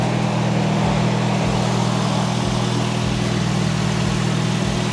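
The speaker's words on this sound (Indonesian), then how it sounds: "Ini knalpot udah kita ganti sama air racing ya, jadi suaranya di ruangan tertutup jadi agak lumayan menggetar" A loud Toyota Vios Gen 2 engine idles indoors with a deep, rumbling racing exhaust, steady and continuous with a throbbing low pulse throughout.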